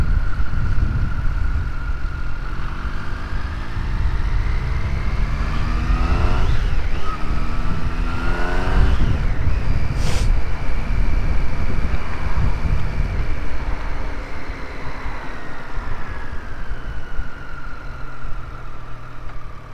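A Triumph Street Triple R motorcycle is ridden on the road, its engine note rising and falling through gear changes under constant wind rush at the microphone.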